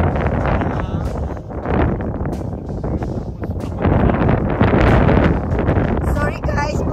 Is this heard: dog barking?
no